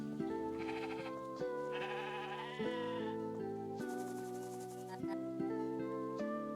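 Sheep bleating in the supermarket video game Discounty, a run of repeated, overlapping wavering bleats at steady volume with no talk.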